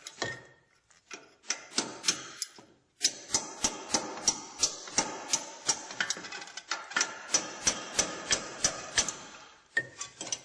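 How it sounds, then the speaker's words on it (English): Sharp metallic hammer blows strike a punch against a car's steering knuckle in a fast, steady rhythm, close up, with a couple of brief pauses between runs of strikes. "Just take a punch and a hammer"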